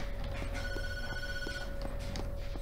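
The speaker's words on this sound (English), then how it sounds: "The phone's ringing. Where is the phone?" A telephone rings in the video game Tattletale, a continuous electronic ring heard over a busy background of footsteps and small knocks.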